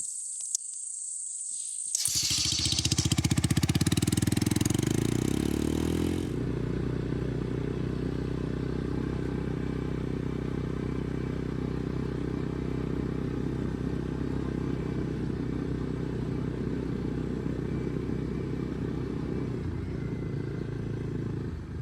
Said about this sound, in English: let's get back on the ATV and let's head over to my tree stand